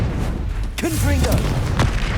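A Confringo spell blast in the Hogwarts Legacy video game: a deep booming burst with a short tail, closely followed by a voiced game exclamation and further brief impacts.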